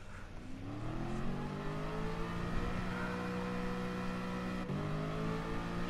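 Race car engine revving in the Gran Turismo Sport driving game on PS4, a loud steady drone that climbs in pitch through upshifts, with a brief gear-change dip near the end.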